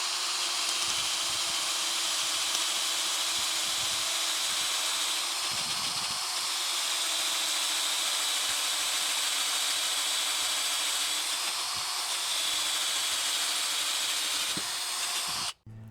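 A Ryobi cordless drill bores spade bits, from half inch up to one inch, into a treated 4x6 timber, making a steady loud whirring grind that runs almost unbroken before cutting off abruptly at the end.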